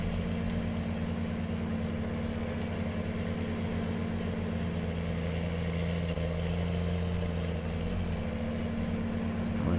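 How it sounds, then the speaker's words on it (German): A tractor towing a trailer in Farming Simulator 19 gives a steady, low engine drone with a constant hum and no change in pitch. It is moderately quiet, runs unbroken and has no talk over it. "Der Traktor, wenn der Anhänger hinten dran ist."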